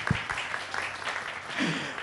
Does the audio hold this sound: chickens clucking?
no